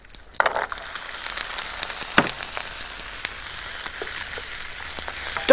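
Steady sizzling of chopped celery and carrots frying in a hot pan, a continuous crackle with occasional sharper pops and stirring noises, no voices.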